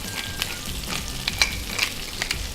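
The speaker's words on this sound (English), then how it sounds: "Fry the shrimps until they are cooked." Shrimps fry in hot oil in a paella pan over medium heat, a steady sizzle with scattered sharp pops and crackles, close and moderately loud, with no voices.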